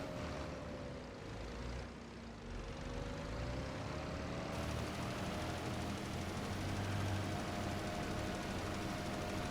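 A tractor engine drones steadily in the Farming Simulator 25 video game during field fertilizing, a continuous low mechanical hum with a faint tonal whine and no speech.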